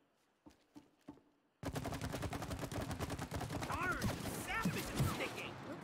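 Gunfire in the video game It Takes Two, aimed at a target: a few isolated shots, then a sustained rapid burst of loud automatic fire with mechanical clatter layered over it.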